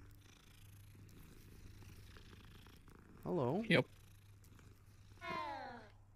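A cat in Hogwarts Legacy purrs steadily as it is petted, a low continuous rumble, followed by two short meows, while a person speaks briefly over it.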